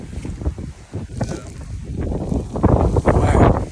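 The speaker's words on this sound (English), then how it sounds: "Wow, super windy today." Strong wind on a North Dakota upland bird hunt near a corn row buffets the microphone in gusty roaring bursts that build louder toward the end, with faint movement sounds.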